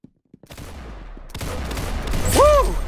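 Bursts of video-game gunfire from a Phantom Forces-style shooter rattle out over a steady game soundscape, loud and close, with a whooping voice rising near the end.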